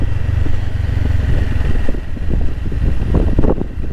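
A Honda CB500X motorcycle is ridden down a mountain road at Phu Thap Boek, its engine droning steadily under loud, constant wind rush at the microphone.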